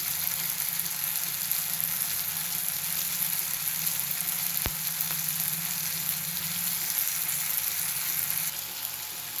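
Tomatoes and other chutney ingredients fry in a hot pan with salt, giving a steady, close sizzle that runs unbroken throughout, with one sharp click midway and no talking.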